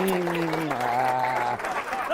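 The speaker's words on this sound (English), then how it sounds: "Give Sarah a big round of applause, ladies and gentlemen." An audience's round of applause at a live show rolls on steadily beneath a voice speaking over it, moderately loud throughout.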